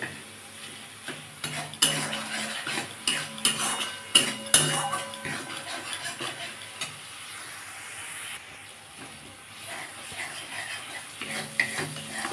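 A metal spatula scrapes and presses softened tomatoes in a pan for a ridge gourd and sesame dish, producing a fairly quiet, irregular run of clicks and scrapes over a faint sizzle.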